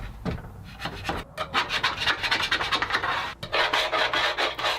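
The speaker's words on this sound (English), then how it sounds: "I started off with a scraper to remove the majority of the material, and then I switched over to a fine bristle wire brush to remove the rest" A scraper and then a fine-bristle wire brush work old rope seal off the metal of a smoker, making close, steady rhythmic scratching and rasping strokes with no pauses.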